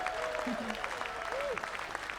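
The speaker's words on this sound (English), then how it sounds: "Let's give all the crews here a big round of applause" A festival audience at Shrewsbury Folk Festival applauds the crew with a steady, dense wash of clapping that holds at an even level throughout, with faint voices drifting underneath.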